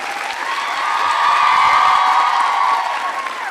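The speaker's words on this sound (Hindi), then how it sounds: "अब आप तालियां जोरों से बजाइए मैम के लिए" An audience at a university Holi quiz show applauds, with cheers mixed into a loud, dense crowd sound that swells and holds for a few seconds.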